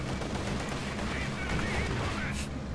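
Rapid MG-42 machine-gun fire from Company of Heroes 2 rattles steadily against a German T-70 tank in a dense, continuous wash of battle noise, with a soft voice partly underneath.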